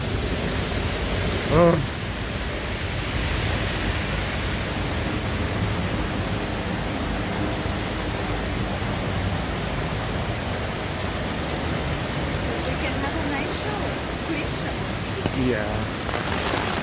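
Steady rain falls during a walk near a Hyatt Regency, a constant close hiss of drops on pavement filling the whole stretch, with a brief voice and a couple of short remarks on top.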